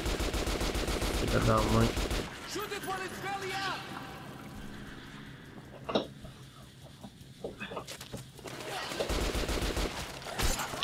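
Gunfire in the video game Metro: Last Light comes in rapid automatic bursts and single loud shots, broken by quieter stretches, while someone talks over the action.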